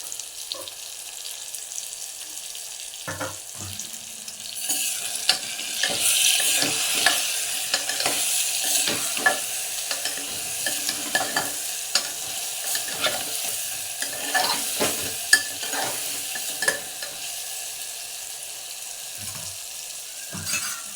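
Stuffed eggplant sizzles steadily in a hot pan with chili powder, while a spatula repeatedly scrapes and stirs it; the frying hiss stays loud and continuous from start to finish.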